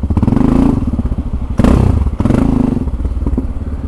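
A motorcycle lane-splits through a traffic jam, its engine loud and close with a steady throbbing drone, broken by a few heavy thumps and clattering knocks along the way.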